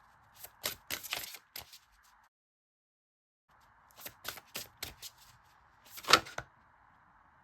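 Tarot cards shuffled and drawn during a reading: two quiet, close bursts of rapid flicking card clicks, separated by a short pause, ending with a sharper snap.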